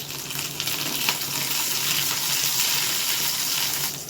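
Curry leaves sizzle in hot oil with garlic and green chilli, a loud, steady hiss of frying close by with small crackles throughout.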